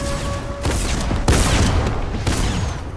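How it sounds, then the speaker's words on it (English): Airstrike explosions in the Fortnite zombie mode hit in a loud, rapid barrage, several booming blasts and crackling bursts overlapping across a few seconds. "I'm calling in an airstrike"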